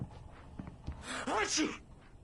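A character in the video game Alan Wake Remastered gives a single short sneeze, preceded by a quick sharp intake of breath and followed by a brief nasal exhale.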